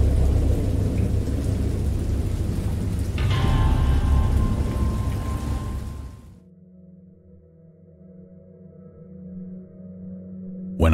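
A thunderstorm with rain in the interactive story game Dagon: a heavy downpour and a deep, rolling rumble fill the first six seconds, then cut to a quiet, low hum.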